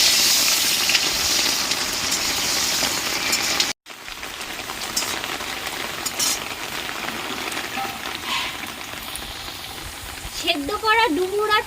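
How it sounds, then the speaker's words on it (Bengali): Potatoes go into hot oil in a wok and sizzle with a continuous, close crackle. A brief dropout cuts the sound midway, and a voice is heard near the end. "কড়াই তেল গরম হয়ে গেছে আলুটা আমি এখন দিয়ে দিচ্ছি"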